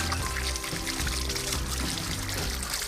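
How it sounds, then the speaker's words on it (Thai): Water running steadily through a fish pond filter fitted with a UV lamp and weighted down with stones, a continuous close splashing and trickling wash without breaks or speech. "น้ำเราก็จะรันปกติครับ"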